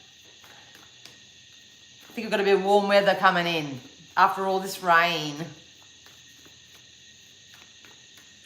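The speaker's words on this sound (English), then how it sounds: "can you hear the crickets?" Crickets chirping outdoors in warm weather after rain, a steady high-pitched trill with pulsing chirps running throughout, continuing beneath a voice in the middle.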